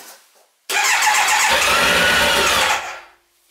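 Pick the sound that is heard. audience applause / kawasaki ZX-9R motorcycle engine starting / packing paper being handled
kawasaki ZX-9R motorcycle engine starting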